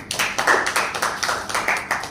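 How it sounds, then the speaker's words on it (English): A small audience at a management book review claps in a quick, loose rhythm, each close, distinct clap audible in a short burst of applause with no talking. "Give a round of applause."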